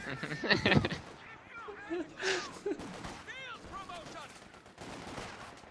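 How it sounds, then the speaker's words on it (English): Gunfire and grenade blasts from a competitive 1v1 online shooter match, a burst of sharp bangs near the start and more scattered shots after, heard under excited talk from commentators. "Oh, grenades on the left"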